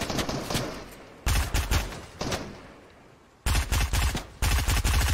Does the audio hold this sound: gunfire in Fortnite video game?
yes